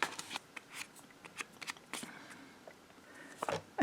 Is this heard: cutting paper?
yes